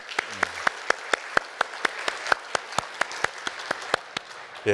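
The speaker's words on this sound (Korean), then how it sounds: "우리 하나님께 영광의 박수 드릴까요?" A church congregation claps together in a steady, evenly spaced unison rhythm, each sharp clap close and distinct, with no voices over it.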